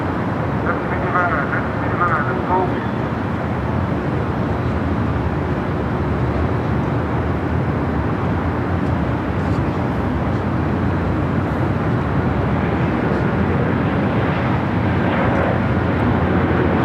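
A Virgin Atlantic Airbus A350-1000 departs LAX for London Heathrow, a steady, loud jet roar lasting the whole stretch while a voice talks over it.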